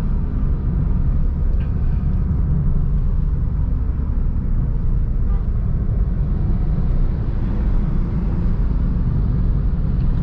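Steady low engine rumble from inside a moving Honda Mobilio with manual gearbox at 3000 RPM, droning continuously with road noise and a constant vibrating hum.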